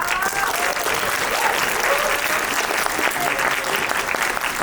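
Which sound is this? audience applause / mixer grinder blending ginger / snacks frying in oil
audience applause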